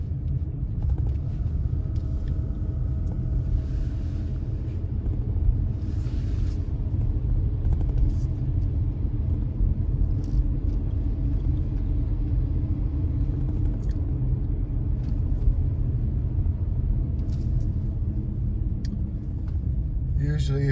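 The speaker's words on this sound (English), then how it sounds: "you can hear the garbage trucks roaring down the street." Garbage trucks with turbocharged engines roar along a residential street on collection day, a loud continuous low rumble of heavy diesel engines throughout.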